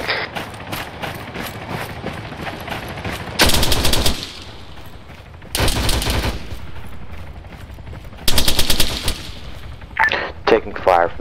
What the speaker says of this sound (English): Taking fire from the southeast.